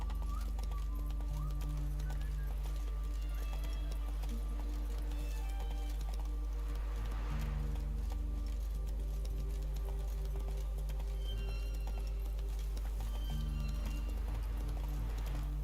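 Roach, a horse in The Witcher 3, trots with a steady, even clip-clop of hooves that holds for the whole stretch over a constant low game background hum.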